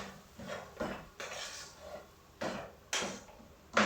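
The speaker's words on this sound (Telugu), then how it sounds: "రైస్ వేసేసి మంచిగా మిక్స్ చేసుకునేద్దాం." A spoon clanks and scrapes against a pan while rice is stirred into cooked tomato for mint paratha, giving irregular metallic knocks and scraping strokes at moderate volume.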